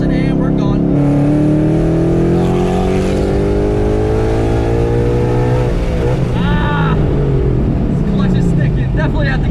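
A 722-horsepower Ford Mustang GT with a stock clutch rolls into third gear near 4,000 rpm and pulls hard, its loud engine note climbing steadily, dipping at a shift around the middle, then rising again, with voices talking over it throughout.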